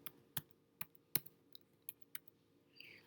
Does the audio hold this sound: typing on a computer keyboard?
yes